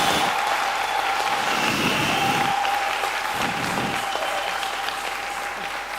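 A congregation claps loudly and continuously during a church deliverance service, the applause broad and sustained with a steady tone underneath, easing slightly toward the end.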